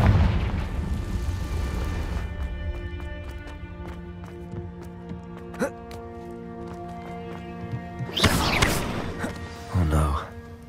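A Confringo explosion spell cast in Hogwarts Legacy bursts twice near the end as loud, broad blasts, the second shorter, over steady sustained game music.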